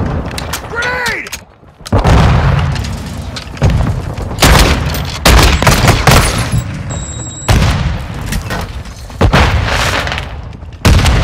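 A grenade and heavy weapons fire boom through a Call of Duty: Modern Warfare II battle, with loud detonations and bursts of gunfire repeating every second or two, under shouted voice callouts.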